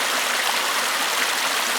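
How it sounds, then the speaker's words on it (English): A small stream feeding a surface-fed water system rushes and burbles in a constant, close wash of flowing water, with no voices. "I have a stream coming through here."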